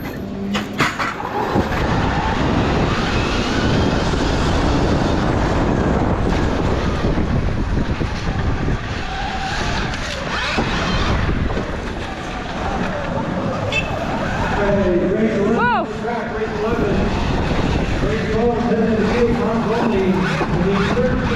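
Surron electric pit bikes at the start of a pit bike race, heard as a loud, steady, wind-buffeted roar of motors with rising whines near the end, while people talk over it.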